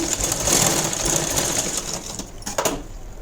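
A sewing machine stitches a two-inch cloth strip onto plain blouse fabric, giving a steady, close, rapid mechanical whir that runs continuously and eases off near the end, with no talking.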